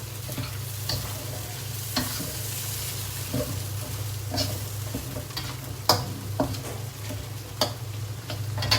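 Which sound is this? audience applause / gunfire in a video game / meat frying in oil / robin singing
meat frying in oil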